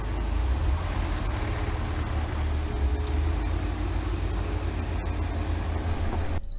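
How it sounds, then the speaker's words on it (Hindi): Ford EcoSport SUVs off-roading through mud in the Aravalli Hills, a continuous low engine rumble with rough churning, close and steady throughout without speech. "ये आप देख लो, सबकी ऑफ रोडिंग हो रही है।"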